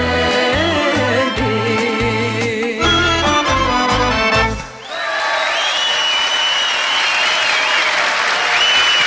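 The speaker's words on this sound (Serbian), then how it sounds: "Molim vas još jedan gromoglasan aplauz za dve farmike" Thunderous studio audience applause after a duet on a Serbian TV music show: a loud band and vocals finish, then a dense, sustained wave of crowd clapping swells and carries on with a faint cheer above it.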